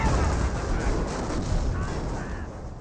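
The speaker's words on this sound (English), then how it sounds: "That 25-pounder barrage is coming out in." A 25-pounder artillery barrage in the Company of Heroes video game rumbles as a steady, loud wash of booming impacts and noise, with no clear pause across the stretch.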